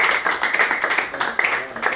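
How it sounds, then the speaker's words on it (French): A small group of children and adults at an orphanage clap for a boy, a brisk, steady patter of hands close by with a faint voice underneath. "Applaudissez pour lui."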